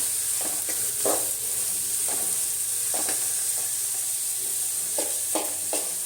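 Ginger and garlic fry in a pan for Tulu-style chicken sukka, a continuous close sizzle broken by repeated scraping stirs at an irregular rhythm.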